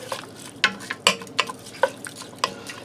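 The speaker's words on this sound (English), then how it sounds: "Give that a stir." Uncooked white rice being stirred in a pot, a series of sharp scraping and rattling strokes spaced roughly every half second, close and clear, with no talking.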